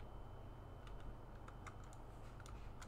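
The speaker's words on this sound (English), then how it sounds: "I want to press every button on the keyboard until something happens." Scattered keypresses on a computer keyboard during the game Kingdom, clustered clicks and taps close by, clearer toward the end, over a constant low background hum.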